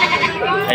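A goat bleats at a busy goat market in Padre Garcia, Batangas, a wavering call heard close amid steady crowd chatter and people talking.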